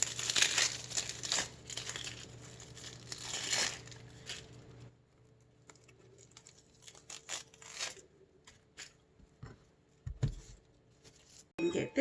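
Papery skin is peeled off a large halved Vidalia onion, close crinkly crackling and tearing in short bursts, busier at first then sparser and quieter with scattered small rustles.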